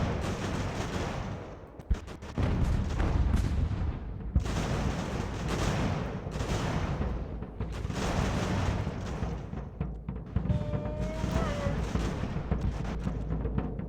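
Cannon fire in a battle of Ultimate General: American Revolution, with deep booming blasts in several heavy waves over a constant roar of gunfire and battle noise.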